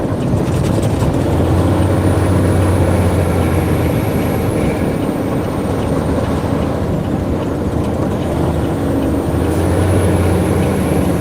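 Loud, steady drone of a Peterbilt truck engine heard from inside the cab, with a rising whine as it downshifts, continuous and close, without talking.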